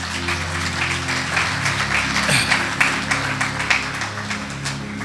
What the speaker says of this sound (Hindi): जोरदार तालियां खुदा उनके कलाम के लिए।